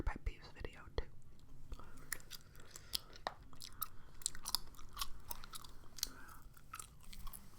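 Close, quiet gum chewing with wet smacking and clicking mouth sounds, steady and rhythmic throughout, under soft whispered speech in an ASMR setting.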